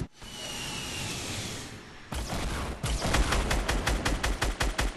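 Fast bursts of gunfire in the Fortnite Battle Royale video game, loud and close, with a rapid run of sharp repeated shots in the second half after a steadier rushing stretch.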